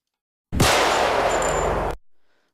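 A stock gunshot effect from an editing software library: one loud, abrupt blast followed by a sustained roaring burst of about a second and a half that cuts off, then a short faint tail.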